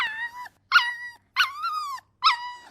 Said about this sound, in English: But since he couldn't talk, he just yelped.